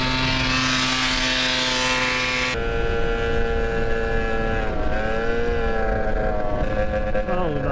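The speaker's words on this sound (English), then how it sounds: "Listen to the exhaust. What is that?" A droning moped exhaust hums with steady tonal buzzing, shifting pitch slightly partway through, close and fairly loud.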